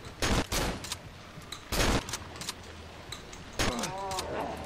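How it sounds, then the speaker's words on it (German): Shotgun blasts in the horror video game Cry of Fear: three loud, sharp booms spaced about a second and a half apart, each with a short decay, over dull ambient game noise. "Ich mach den jetzt mit der Shotgun kalt."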